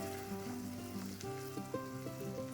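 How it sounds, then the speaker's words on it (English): Tomatoes go into a hot pan for a South Indian tomato curry (thakkali kulambu), setting off a steady, fairly faint crackling sizzle with no talking. "Add the tomatoes now."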